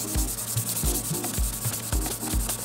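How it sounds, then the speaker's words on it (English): Rhythmic back-and-forth rubbing of 800-grit sandpaper on a painted Land Rover Discovery 3 wheel centre cap, with steady strokes at roughly two per second, loud and close with no talking. "Sand it down, just gonna take off the worst of the dust"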